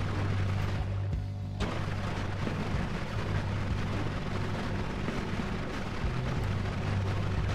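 Explosions in the video game Noita rumble continuously as a dense, booming barrage, loud and sustained, with one sharper burst early on and no talk over it.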